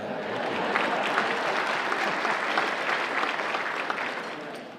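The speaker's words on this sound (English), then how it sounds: "y'all need to give me an applause for that" Audience applause at a Huntsville Madison County Chamber of Commerce event, a dense, steady wash of clapping from a large crowd that swells and holds at moderate loudness for several seconds, with no talk over it.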